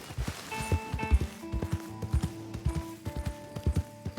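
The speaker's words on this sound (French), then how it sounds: "Ah mais non, c'est un cheval ça." Horse hooves clip-clop at a steady walking rhythm in the Red Dead Redemption 2 video game, close and clear, over a faint musical drone with sustained tones.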